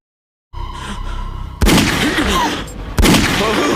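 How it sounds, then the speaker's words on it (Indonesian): Gunshots in a film scene ring out as two loud, sharp blasts about a second apart, each followed by a rumbling echo, over a low tense background. "tiba-tiba seseorang menembak Hars"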